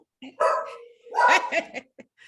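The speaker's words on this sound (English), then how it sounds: "the dog want to show out this morning" A dog barks and yips in a couple of loud, close bursts during a morning conversation, with voices talking around the barking.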